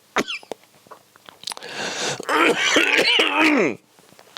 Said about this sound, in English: I'm be coughing for a bit now.